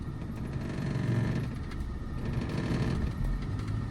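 Car engine running steadily under light extra throttle while holding on an uphill slope, a continuous low rumble without talk.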